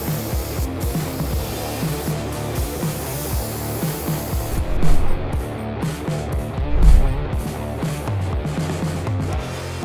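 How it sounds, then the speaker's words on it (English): A spray gun applies finish to a shop storage cabinet, producing a close, steady hiss broken into repeated short pulses, with occasional louder surges. "Let us spray."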